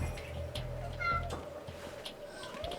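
Cats in Metal Gear Solid 2 give a few faint, short meows over a low, steady game background hum.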